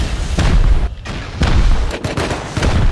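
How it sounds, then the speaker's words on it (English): Rockets fire and detonate in the survival video game Rust, giving several heavy booming blasts in quick succession, loud and close, each one a sharp burst with a short rumbling tail. "Shoot the rocket! Alright, I'm about to rocket."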